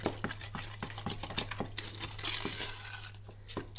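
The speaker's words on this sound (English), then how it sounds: "And then we're going to stir this concoction up." Acrylic paint mixed with PowerTex and 3D balls being stirred in a container: a close, irregular series of scraping, crinkly and tapping stirs over a faint low hum.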